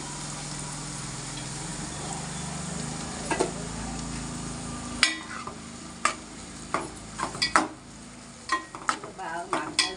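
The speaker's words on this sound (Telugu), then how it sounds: "2 ఉల్లిపాయలు కట్ చేసి వేసుకున్నాను" Chopped onions sizzle in a pan for a fish curry, first as a steady frying hiss and then under a run of sharp scrapes and clinks from the stirring spoon against the metal pan.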